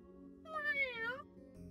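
A cat meowing in the video game Little Witch Nobeta, a single clear, drawn-out meow about a second long, fairly faint over a quiet game music bed.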